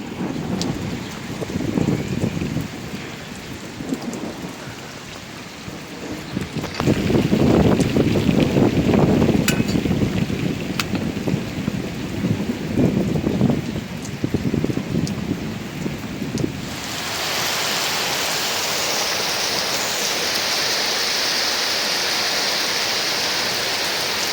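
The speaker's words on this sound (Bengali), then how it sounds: "যে ঝড় বৃষ্টি শুরু হয়েছে" Rainstorm with thunder: a broad hiss of heavy rain with swelling gusts and low rumbles, loud and continuous, shifting midway to a brighter, steadier pour, with no talking.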